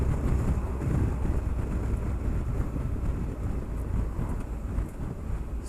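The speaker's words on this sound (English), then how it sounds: "I'm starting to get a little bit of buffeting, a little bit of wind, a little bit more noise." Wind buffets a rider on a 2018 Triumph Tiger 1200 XRX motorcycle while riding, a loud continuous low roar and rumble of wind noise with steady engine and road drone underneath.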